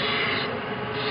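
A Winslomatic HC drill grinder grinds the point of a 3/4 inch drill bit with a steady, close, raspy rubbing sound that lasts about a second.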